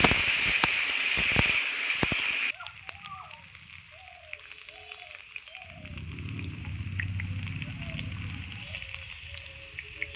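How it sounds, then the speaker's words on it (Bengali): Cut, washed potato pieces hit hot oil with a loud, bright sizzle that lasts a couple of seconds, then settle into a quieter crackle with clinks from stirring and a voice in the background. "এইবার আমি আলুটা ভেজে নেব ওই তেলেই"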